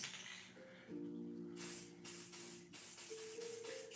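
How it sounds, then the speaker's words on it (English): Short bursts from an aerosol spray can applying a matte finish hiss close by, several quick sprays in a row with faint clinks and background hum between them. "And then let me spray it, and you guys are gonna see the difference."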